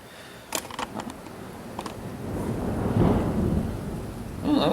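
Thunder rumbles during a thunderstorm, building into a deep rolling boom that swells and lingers over steady rain, with a few sharp crackles early on; fairly close and moderately loud, no talk.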